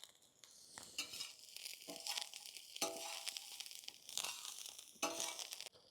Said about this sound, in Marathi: खडे मसाल्यांमध्ये मी दालचिनी, काळी मिरी, लवंग, तेजपत्ता, अख्खा धना, डाळ्या घेतलेल्या आहे। परतून घेऊ।